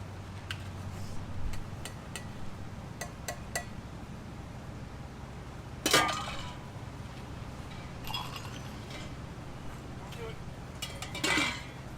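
Cups fresh from a dish machine are handled and set down during a margarita happy hour, with a few sharp clinks and knocks standing out over faint room noise and a low background hum.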